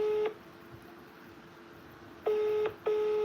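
Three bursts of telephone keypad dialing tones, one short at the start and two longer ones a few seconds later, clear and fairly loud over a quiet background hiss.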